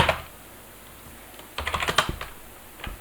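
Someone types a short Linux terminal command on a computer keyboard: a brief burst of rapid close key clicks after a quiet pause, then a final tap, with no talking.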